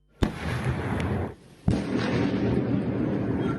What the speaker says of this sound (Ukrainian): Свист ракет та серія вибухів